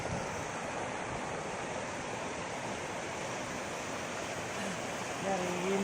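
Floodwater pours over a washed-away diversion road in a continuous, even rushing roar that stays close and loud, with a faint sound near the end.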